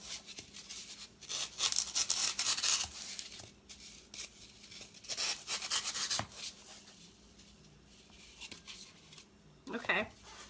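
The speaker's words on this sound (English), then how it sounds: "now I'm just going to trim the edges to get it more rounded" Trimming the edges of a flower arrangement base in a cup to round it off, a series of soft rubbing and shaving scrapes in uneven bursts, close and fairly quiet, with a few quick sharper sounds near the end.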